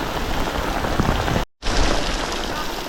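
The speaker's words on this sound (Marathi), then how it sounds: "डेंजर पाऊस एकदम" Heavy monsoon rain pours steadily in a village ahead of the Ganesh festival, a dense, loud roar of drops on surfaces that breaks off for a split second midway and then resumes.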